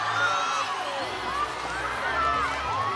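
Arena crowd at a college gymnastics championship meet in Orange, a steady roar of cheering and shouting voices filling the space, with overlapping commentary throughout.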